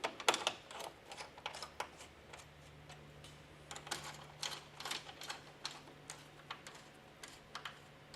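Small wrench tightening a Starlink Mini roof rack mount on an SVNTY Offroad rack, giving quiet, rapid ratcheting ticks in irregular bursts throughout, faint and close, over a low steady hum with no talking.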